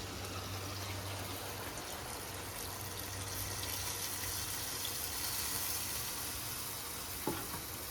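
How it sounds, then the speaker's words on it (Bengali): Water poured into a pot of browned, well-fried meat curry, a continuous sizzling hiss and bubbling with a faint tap-like splash and a single clink near the end, close and steady, with no talking. "আমি জল দিয়ে দেবো"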